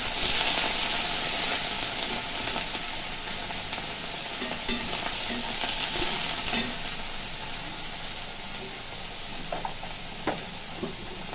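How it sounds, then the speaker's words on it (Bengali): Mixed vegetables — pointed gourd, ridge gourd, bitter gourd and eggplant — fry together in hot oil, a steady close sizzle with occasional stirring clatter throughout, no voices. "দুটো পটল রয়েছে, একটু ঝিঙে রয়েছে, একটু উচ্ছে রয়েছে, একটু বেগুন রয়েছে, একসাথে ভেজে ফেলবেন"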